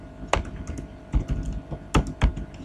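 Computer keyboard keys clatter in irregular bursts of clicks while someone types JavaScript code, fairly close and clear with short pauses between clusters, no voices.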